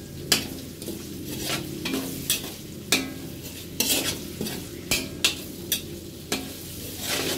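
Marinated pork sautéing in a pan for pork steak, with repeated sharp spatula scrapes and clacks at an irregular rhythm over a soft, continuous sizzle, close up, with no talking.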